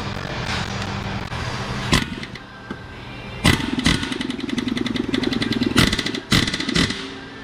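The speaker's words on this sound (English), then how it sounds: "I'm gonna give it some rat-a-tat-a-tatas with the impact driver" An impact driver loosening a bolt on a 2019 Dodge Charger rattles in bursts, with short hammering clatters repeating over a steady mechanical whine, loud and close.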